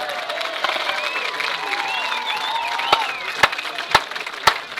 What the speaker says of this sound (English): one more round of applause for your cadet dance team